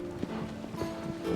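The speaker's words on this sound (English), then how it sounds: "You get to see the horse just running wild." Hooves clip-clopping from a horse running loose in a video game, a quick irregular patter of soft thuds heard close over a low background murmur.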